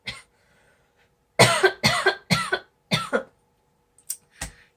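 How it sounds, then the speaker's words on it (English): A person coughs in a fit: one short cough, a pause, then a rapid string of harsh, close coughs in pairs and clusters, followed by two fainter coughs near the end. "it wouldn't be me if I didn't have a coughing fit in the middle of whatever I'm talking about"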